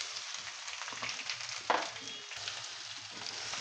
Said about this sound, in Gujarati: ગેસની ફ્લેમ ધીમી રાખશું અને 10 થી 12 મીઠા લીમડાના પાન નાખશું અને તરત જ આપણા તૈયાર કરેલા રાઈસ બોલ્સ મિક્સ કરી દઈશું.